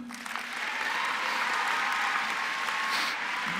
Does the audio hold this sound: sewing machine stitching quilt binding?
no